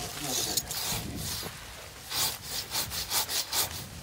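A hand saw cuts through a wooden branch in a series of rasping strokes, first scattered, then a quick rhythmic run of back-and-forth pulls toward the end, heard up close with faint talk nearby.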